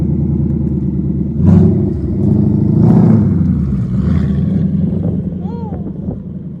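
Rebuilt wrecked 2019 Ford Mustang GT V8 driving past close by, engine rumbling loud and deep with two swells of revving before easing off, people talking over it.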